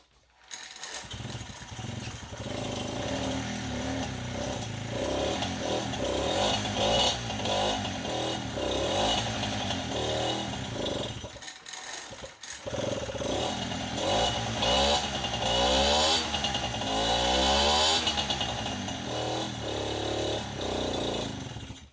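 Peugeot 103 moped with a 65cc Airsal T3 kit, in poor running order, restarting and running roughly, a loud close buzzing two-stroke drone that briefly cuts out around midway before catching again and carrying on unevenly.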